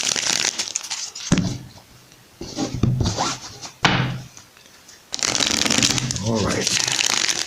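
Repeated riffling and rubbing of tarot cards being shuffled in several bursts, close by, with brief pauses between.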